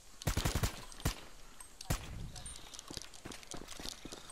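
Suppressed gunfire in Grand Theft Auto V during an island heist, a quick burst of muffled shots followed by a few single pops, loud and close over game ambience.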